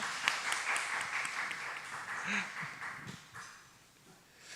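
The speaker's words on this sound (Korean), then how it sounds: "여러분 박수로 환영해 주시면 감사하겠습니다." A church congregation clapping in welcome for arriving church members during a Friday worship service, a brief burst of applause that fades over a few seconds.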